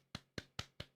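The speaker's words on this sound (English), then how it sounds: "weird woody sound like this." Dry, woody tapping from a Ting drum plugin gives five evenly spaced, quick knocks in about a second, each short and hollow with a fast decay, quiet and alone.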